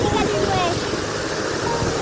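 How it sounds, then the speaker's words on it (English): Large waterfall on the Eiger North Face trail in the Swiss mountains, a steady broadband roar of falling water filling the scene close by, with faint voices partly buried under it. "one of the best or the biggest waterfalls that we have come across so far"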